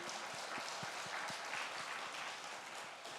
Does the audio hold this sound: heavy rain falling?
no